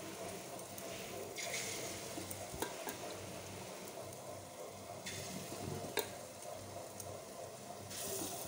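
Small dollops of batter for a bottle gourd shukto dropped into hot oil, a steady close sizzle and bubbling with occasional soft clinks of a utensil, no voices.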